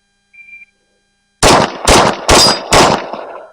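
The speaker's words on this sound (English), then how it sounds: "that is 4 rounds left, so we'll do just 4 rounds on one target" Four loud, sharp shots from an H&K MK23 pistol fired at a target, spaced about half a second apart after a brief faint beep, each with a short echoing tail.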